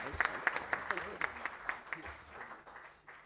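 Applause from a convention audience at a Kenya Diaspora Alliance gathering follows a speech, distinct claps rising over a murmuring crowd and thinning toward the end, with voices heard beneath.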